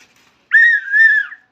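A whistle blown on a street gives one loud, close, sustained shrill blast of about a second, dipping briefly midway, with nothing else around it.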